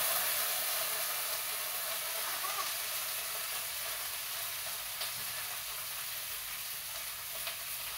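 String beans sizzle steadily in a pan with garlic and soy sauce, giving a continuous bright frying hiss with faint pops and spatters throughout, close and even in level, with no talking.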